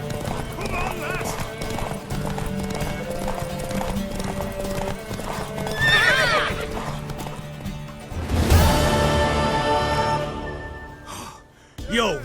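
Horse hooves clip-clop through a video game horse race, with a horse neighing and snorting partway through over a constant bed of game music and dialogue; the loudest burst comes near the end.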